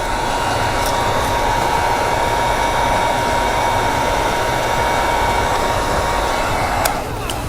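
Heat gun blowing hot air over vinyl film during a chrome delete on a 2024-2025 Hyundai Sonata front grille, a loud steady whooshing roar that holds throughout with no talk.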